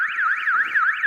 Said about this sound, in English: Bloody neighbour alarm.